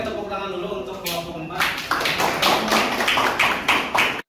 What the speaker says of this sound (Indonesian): kalau cukup boleh tepuk tangan dulu untuk kelompok